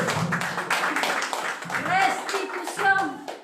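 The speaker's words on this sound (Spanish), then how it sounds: "¡Aplauso para el presidente Pedro Castillo!" Crowd clapping at an outdoor political rally, a brisk patter of hands mixed with cheering voices and a shouting speaker.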